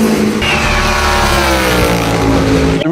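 A NASCAR stock car's engine roars at Le Mans, loud and close, rising in pitch as it accelerates through the gears across a few seconds, with no talk over it.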